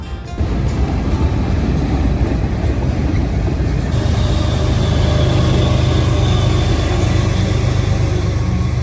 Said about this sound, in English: Got a train going by up there.